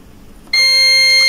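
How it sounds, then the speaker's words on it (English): A multimeter in continuity mode gives a steady electronic buzzer beep on a low-resistance resistor, one loud continuous tone starting abruptly partway in and holding to the end. "you should get a buzzer or a very low resistance like this"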